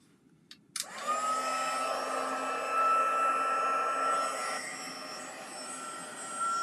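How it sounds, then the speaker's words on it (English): A heat embossing tool switches on after a few soft clicks and blows hot air in a loud, steady whirring hiss with a high whine, holding for several seconds before dropping slightly in pitch, with no talking. "as we heat emboss this."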